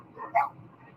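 A single short dog bark, moderately close, rising sharply above a dim background of outdoor noise among parked cars.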